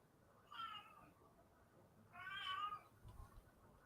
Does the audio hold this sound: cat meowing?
yes